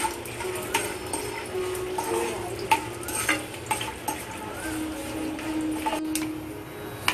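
Urad dal, chana dal and peanuts fry in hot oil for tamarind rice. The oil crackles and sizzles steadily up close, and a spoon scrapes and clinks against the pan as they are stirred.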